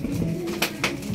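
Pigeons being fed give low, soft coos in a brief moment, close by, over a faint steady background.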